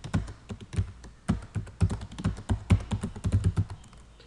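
Fast, uneven typing on a computer keyboard, with close, crisp key taps in quick clusters throughout and no talking over them.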